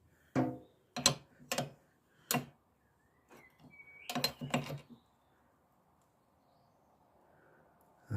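A ratchet fitted with a 19mm socket on a Vespa P125X scooter gives a handful of sharp, close clicking bursts with pauses between them, then falls quiet.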